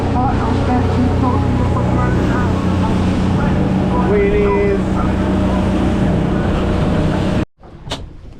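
A boat motors back to shore through choppy water, its engine a steady loud drone with knocks and thumps from the rough ride, voices faintly mixed in, then a sudden cut near the end.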